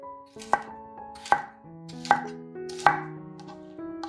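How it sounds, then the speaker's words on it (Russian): Knife chopping red and yellow sweet peppers into fairly large pieces on a cutting board: four crisp, evenly spaced chops, close and distinct, with no talk. "Два сладких перца нарезаем произвольными,"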